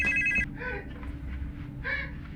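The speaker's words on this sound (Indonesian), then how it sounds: "telepon berdering." A telephone rings in short electronic bursts, a couple of trilling rings separated by pauses, fairly quiet against a low background hum.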